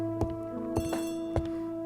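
A telephone rings in the Agatha Christie ABC Murders video game, a steady electronic bell tone pulsed by several sharp clicks, moderately loud and alone.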